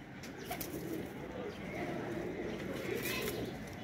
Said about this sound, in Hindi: और ये कबूतर चेक कर रहे हैं, टैडी कबूतर हैं चौधरी साहब वाले।